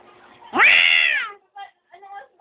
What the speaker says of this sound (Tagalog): yan na yung pusa lang